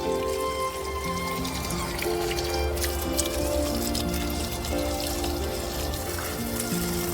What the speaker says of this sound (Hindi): और अब मैं थोड़ा सा इन पौधों को पानी दे रही हूँ।